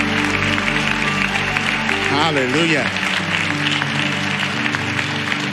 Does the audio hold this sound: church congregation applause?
yes